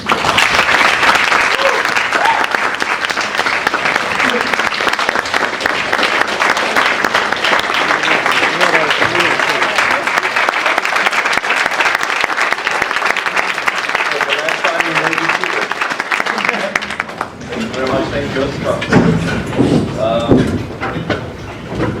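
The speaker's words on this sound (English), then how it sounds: "can we have a warm round of applause?" An audience at a Model UN closing ceremony breaks into loud, dense applause that continues steadily for about seventeen seconds, then thins into scattered clapping with voices underneath.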